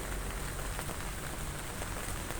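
Rain falls steadily and evenly, a dense, soft hiss of drops on surfaces with no voices.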